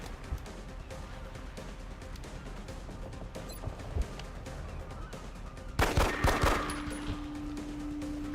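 Gunfire in the turn-based strategy game XCOM Long War, on a roadway map in Japan, with scattered faint shots under a low background, then a sharper, louder volley near the end followed by a lingering tone.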